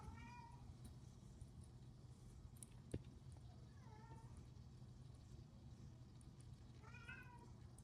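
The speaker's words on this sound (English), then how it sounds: "Now I have my cat over here squealing because he's ready to eat." A hungry cat meows indoors, giving three separate drawn-out, squealing cries spaced a few seconds apart, fairly faint over a quiet room hum with a soft click between them.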